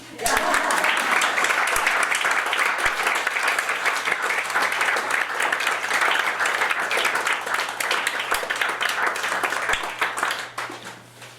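An audience at a book launch gives warm, sustained applause, with dense clapping close and loud throughout before it thins out in the final second.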